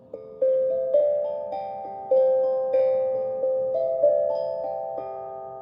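A small chime-like instrument, played calmly at a beach, sounds a sequence of clear, sustained ringing tones, each note struck and left to decay as it overlaps the next, bright and close with no talking.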